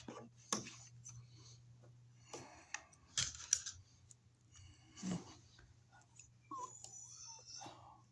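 Plastic electrical conduit is cut short with a hand cutter during an outlet installation, giving a few quiet, sharp snips and clicks spread over several seconds against a faint low hum, with no speech.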